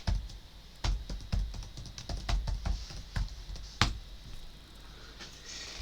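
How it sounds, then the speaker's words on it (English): Keys tapped on a computer keyboard while a password is entered, a quick run of close, crisp clicks in uneven bursts over a quiet room background, ending with one sharper keystroke before the sound tails off. "now I have to type in my Upmax password"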